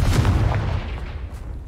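A Confringo spell in Hogwarts Legacy goes off as one deep, booming blast, loud and close, then rumbles away over a second or so. No voice is heard.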